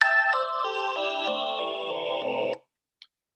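Synthetic sonification of a diagonal line as a descending run of bright pentatonic tones, stepping down evenly for about two and a half seconds before stopping, followed by a tiny faint blip in silence.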